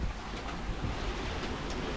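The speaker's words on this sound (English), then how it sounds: "Pretty windy and pretty wavy out here" Wind and rough waves at sea aboard a sailboat crossing from New Caledonia to New Zealand make a dense, continuous wash of surf and gusting wind noise, loud and close with no pauses.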